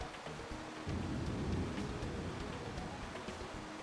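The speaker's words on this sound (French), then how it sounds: "Yo les gars, il pleut un peu, non?" Rain falling in the Pokémon video game, a steady hissing wash with a swelling low rumble partway through, continuous and fairly faint.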